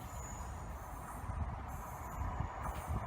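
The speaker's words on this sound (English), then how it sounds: "we've got a 158 from Nottingham to Sheffield passing by now" A Class 158 diesel train on a Nottingham to Sheffield service passes Dore and Totley station as a steady, fairly close rumble with rail hiss and no talking.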